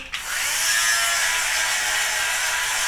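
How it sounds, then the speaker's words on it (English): An electric fabric shaver buzzes steadily across a sweater, a continuous high motor whine that starts abruptly and holds at an even level close by, with no talk. "I think what I'm going to do is a little bit of a sweater shave on this too"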